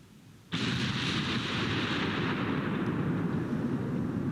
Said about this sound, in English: Ooh, Bismarck just took a hit. There's an incoming salvo.